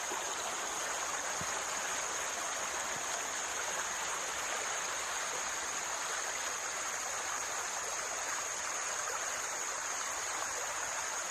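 A small, clear river near its source flows through a steep canyon valley, giving off a steady, even rush of water with no talking.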